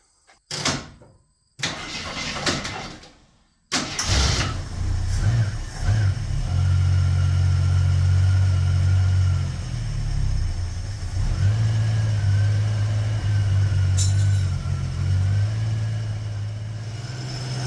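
A few clunks and a brief crank, then a 1973 AMC Gremlin engine, after 30 years in a barn, catches and settles into a steady, low idle that hums on evenly.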